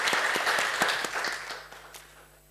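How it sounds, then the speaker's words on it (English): An audience applauds after a talk on open education technology, dense clapping loud at first and then thinning and fading over a couple of seconds. "A big round of applause for Martin Dougiamas."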